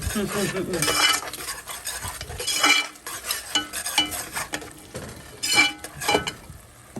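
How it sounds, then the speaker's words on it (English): Butter and flour being stirred into a roux over fairly high heat for a Louisiana shrimp and corn soup: uneven scraping and clinking of a utensil against the pot over a soft sizzle. "Now I'm about to add in this flour, and I cranked it up to 7 because I want to kind of cook this roux down a little bit"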